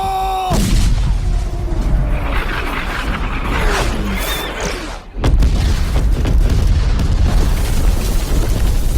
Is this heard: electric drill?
no